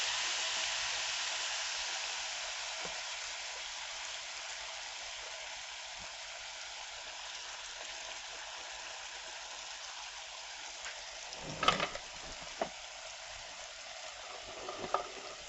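Ripe plantain slices fry in very hot oil, making a steady, bright sizzle that holds throughout, with a few close clicks and taps of a utensil toward the end.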